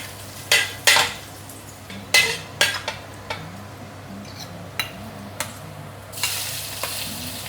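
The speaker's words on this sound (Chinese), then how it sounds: "这个洋葱哈，去爆香嘿" Onion stir-frying in a home kitchen pan for hot plate tofu, with a soft continuous sizzle under sharp, irregular metal spatula clinks and scrapes, close and alone.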